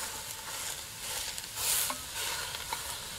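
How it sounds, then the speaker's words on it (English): Food is stirred in a big soup kettle, with a soft sizzling hiss and a few scraping stirs and clinks close by, with no one speaking. "Using the old pop and stir to get it going."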